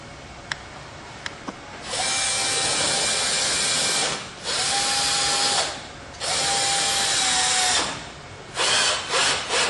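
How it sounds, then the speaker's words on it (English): A cordless screw gun drives screws into a color guard in three long, steady whirring bursts, with a few faint clicks before the first and a short stuttering burst at the end, heard close and without talk. "Take your screw gun and again start on one end."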